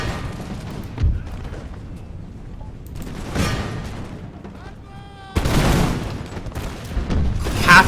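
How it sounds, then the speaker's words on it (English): Troops open fire on the enemy in the Imperial Splendour video game. Bursts of musket volleys and booming shots come in separate waves, with a commander's voice shouting over them. "I just want to start opening fire here on the enemy so that they're engaged with us and not focused on our cavalry"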